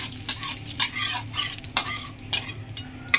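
Radhuni spice seeds frying in a little oil in a pan, with soft sizzling and repeated scraping stirs of a utensil against the metal.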